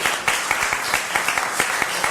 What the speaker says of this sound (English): Maybe if we could hold applause to the end, that would be great.